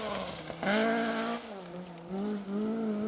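A Ford Escort rally car on a sunny gravel rally stage howls past at speed, its engine note rising and falling through gear changes, loud and close, then fading slightly as it moves away.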